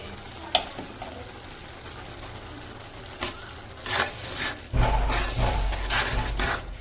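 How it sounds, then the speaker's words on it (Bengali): Ground turmeric, garam masala and cumin fry with onions in a pan while being stirred, soft sizzling broken by scraping strokes of a spatula that grow louder and more frequent toward the end. "পেঁয়াজের সাথে মশলাগুলো এখন ভালো করে কষাই নিই।"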